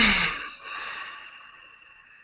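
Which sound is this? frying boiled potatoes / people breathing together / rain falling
people breathing together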